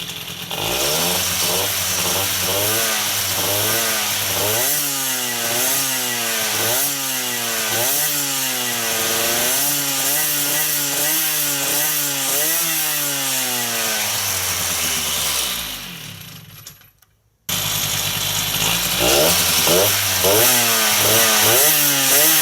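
An MBK 51 moped engine runs loud and close, its buzzing pitch rising and falling steadily, cutting out briefly near the end before resuming.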